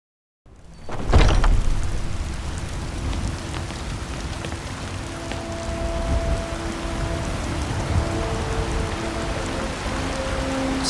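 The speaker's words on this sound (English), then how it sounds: "Still raining, huh?" Rain falls steadily in Skyrim VR after a door opens, a close, constant patter of drops on surfaces with a faint tonal hum underneath.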